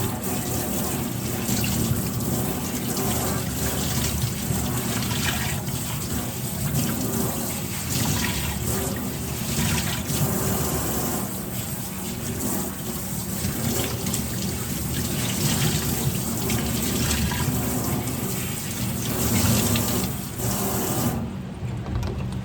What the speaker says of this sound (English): I'm gonna give it one more good rinse now that I have all the banding off.